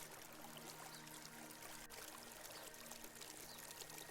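Steady, faint rushing of a mountain river flowing continuously, an even wash of water sound with no other noises.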